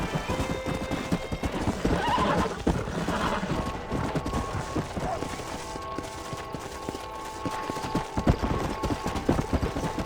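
Horse in the Red Dead Redemption video game whinnying and galloping with steady clip-clop hoofbeats, close and fairly loud, with a neigh rising over the running rhythm.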